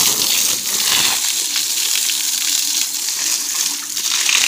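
Water poured and splashing over a cow during a village bath, a loud continuous gushing wash close by with uneven surges, drowning out everything else.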